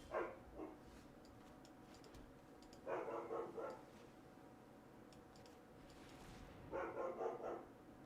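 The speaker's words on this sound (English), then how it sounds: "Dog's barking." A dog indoors barks in three short, fairly faint bursts spread apart, over a low steady room hum with no one speaking.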